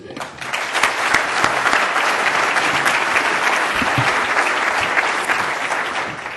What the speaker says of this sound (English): Please give a warm round of applause to our two guests today.